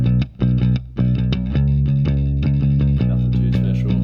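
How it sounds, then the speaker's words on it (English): A distorted electric bass line recorded for an emo/trap song, a dense run of punchy, rhythmic notes with gritty effects, loud and close with no voices. "So just recorded the bass in here"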